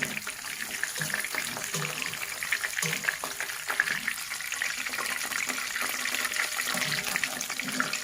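Tofu sizzling in hot oil for a Javanese mangut dish, a steady crackling, hissing fry with bubbling pops running throughout at close range.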